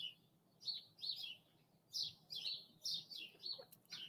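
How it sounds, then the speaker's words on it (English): Several small birds chirp in short bright bursts, repeated in an uneven rhythm over a quiet low background hum. "we're listening to birds"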